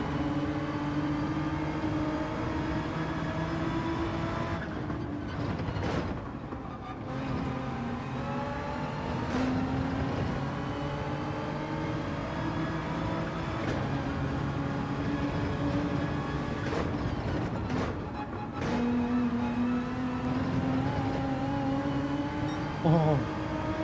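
Racing car engine in Gran Turismo 7 roaring steadily with sustained tonal drone and shifting pitch, brief dips as it brakes for corners, with someone talking over it throughout.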